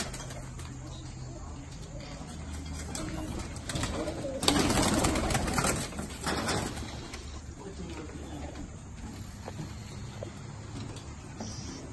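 Malwai pigeons coo steadily in a loft, a low murmuring bed throughout, with a louder burst of fluttering or rustling in the middle; a voice is faintly present.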